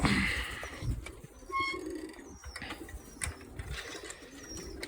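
Pigeons fly around and coo outdoors, with faint soft calls and occasional wing flutters over a low, busy background.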